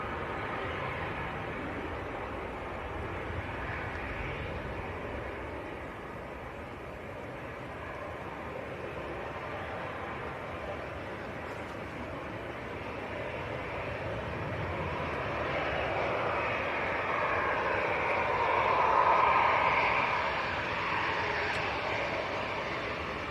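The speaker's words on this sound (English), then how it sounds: "This is EasyJet to Rennes, A320." An EasyJet Airbus A320 airliner at Manchester Airport on a crosswind day, its engine roar building gradually from a steady rumble to a louder peak near the end.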